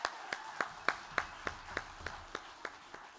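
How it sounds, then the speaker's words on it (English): At a school winter concert, roughly a dozen slow, evenly spaced claps ring out, sounding like one or a few people clapping in rhythm rather than full applause, fairly close and fading slightly toward the end. "So big round of applause for Darren before he plays this."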